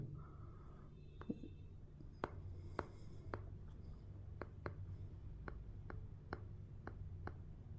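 Pen or marker writing out a chemical reaction for a hydrocarbons lesson, heard as light scratchy strokes and a series of sharp taps from the pen hitting the surface at a steady pace, close and fairly faint against a low hum.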